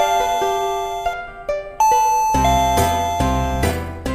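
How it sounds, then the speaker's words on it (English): A Home Guard wireless door chime rings out a clear sequence of bell-like tones, first a series of separate dings, then fuller, louder chime notes layered together, close and alone. "It has different chime sound."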